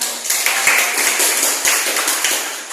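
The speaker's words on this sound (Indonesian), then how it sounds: "Kita berikan tepuk tangan buat" A group claps steadily for a few seconds, a dense patter of applause filling the room.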